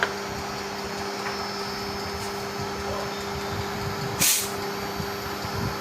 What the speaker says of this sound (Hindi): कंप्रेसर की आवाज़ भी मैं आपको सुना देता हूँ।